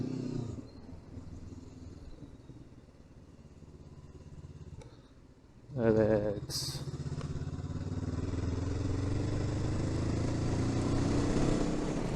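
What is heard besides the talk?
motorcycle engine running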